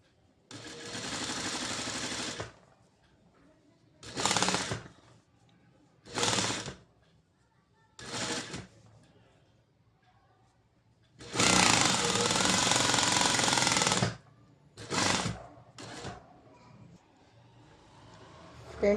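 Sewing machine stitching a blouse, running in several bursts: two long runs of rapid rattling stitching and a handful of short spurts, separated by quiet pauses.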